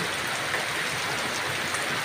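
Steady rain pours down in a dense, even hiss that never lets up, loud and close, with no voices or other sounds breaking through.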